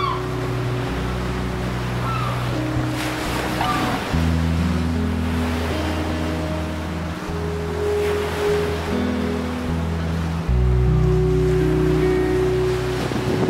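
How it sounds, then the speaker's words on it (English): Ocean waves crash over a breakwall beside a pier on a UK coast, a continuous roaring surge with a low rumbling undertone and occasional heavier swells, steady and fairly loud with no voices. "there's these crazy waves kind of crashing over the breakwall"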